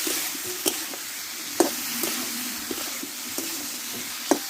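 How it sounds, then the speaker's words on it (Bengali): Spiced vegetables are sautéed in oil in a pan, a soft continuous sizzle with a few sharp scrapes of stirring spaced through it. "এবার আমি কষে রাখা সবজিগুলোকে ঢেলে দেবো ভালোভাবে সবজিটা আমি একটু টাইম করে কষে নেব"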